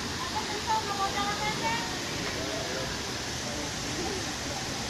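Manuaba waterfall in Bali, a steady soft rush of falling water at a fairly low level, with faint voices at the start.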